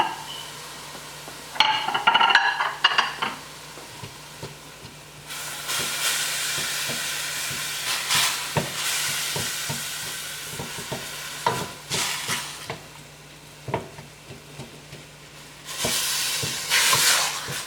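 Ground beef fries loudly in a pan with green seasoning for eggplant lasagna. A continuous hiss and sizzle is broken by repeated scraping and stirring strokes, with bursts of louder crackle.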